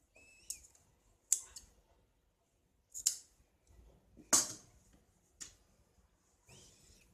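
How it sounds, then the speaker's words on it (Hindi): Scissors snip through an extra strip of blouse fabric in about half a dozen separate, close, crisp cuts spaced across a quiet background. "अब एक्स्ट्रा पट्टी जो है इसे हमें कट करना है।"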